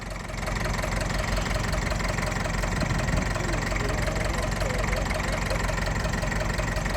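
A vintage Ferguson TEF20 tractor idles at a show, its engine a steady, continuous low chug with an even knocking rhythm, close and unchanging, with faint background voices.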